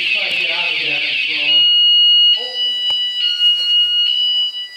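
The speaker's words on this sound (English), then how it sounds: "Why would they have an alarm down here like this?" Loud electronic alarm ringing with a piercing high tone, sustained then pulsing, echoing inside the underground Burlington bunker; a voice exclaims briefly over it.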